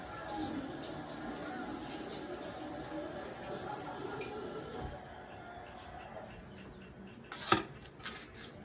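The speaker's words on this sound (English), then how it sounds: "We're gonna rinse our knife again." A kitchen knife is rinsed under a running tap while chicken soup is made, giving steady hissing water flow for about five seconds, then quiet with a few sharp metallic clinks and clatters of cutlery near the end.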